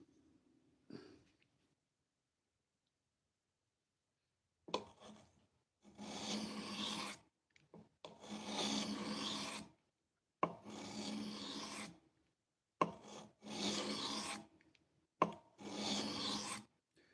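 Blade being sharpened on a 400 grit stone, heard as about six rhythmic rasping strokes, each a second or so long with short pauses between, close and fairly quiet.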